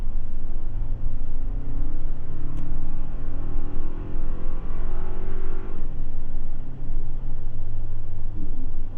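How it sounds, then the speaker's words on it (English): A 2024 Toyota Tacoma TRD Off Road truck accelerates hard, its engine note climbing steadily, dropping at a gear shift, then pulling again, heard from inside the cabin with a continuous road rumble. "All right, let's test some acceleration here."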